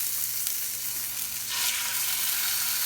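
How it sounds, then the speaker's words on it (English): Beef pieces searing in a hot cast iron skillet, giving a steady, loud, close sizzle and crackle of fat that swells slightly partway through, with no talking. "the beef into the skillet, leaving a little bit of space between so I can get a good sear"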